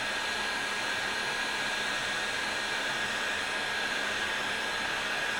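Heat gun blowing hot air in a steady, even hiss with no breaks, moderately quiet and unchanging throughout.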